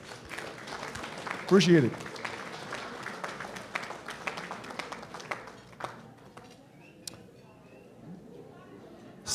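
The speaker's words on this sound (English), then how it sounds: "I'd like to ask you all to just give that team an applause" Guests at a Florida inaugural ball applaud the committee team, a scattered round of clapping that swells briefly then trails off into sparse claps and room murmur, with a voice speaking over it.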